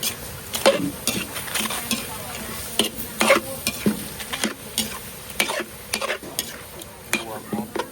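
Frog meat is stirred in a hot pan at an outdoor cooking event, with a steady sizzle under repeated sharp scrapes and clinks of the utensil against the metal, close and fairly quiet.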